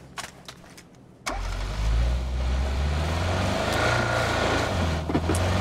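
A car engine in the battle royale game PUBG on the old Erangel map catches with a sudden thump and then revs at a steady, loud low drone for several seconds, with a few faint clicks before it starts.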